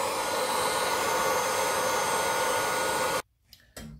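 Paint being stripped from a wooden floor or window frame with a heat gun gives a steady, loud blowing whir that runs without a break for about three seconds, then cuts off abruptly, leaving quiet broken by a couple of faint knocks.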